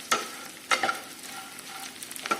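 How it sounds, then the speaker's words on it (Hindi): Edible gum (gond) roasts on a low flame with a soft, steady sizzle broken by three or four scraping stirs of a spoon across the pan, close and fairly quiet. "गोंद को हम बिल्कुल सिम फ्लेम पे भूनेंगे"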